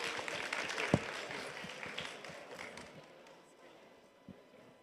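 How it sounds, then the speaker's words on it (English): An audience at a Berlin livestream event claps for a guest, a moderately loud burst of many hands that fades over a few seconds, with a whoop near the start and speech underneath. "Can we also get a little applause for our guest?"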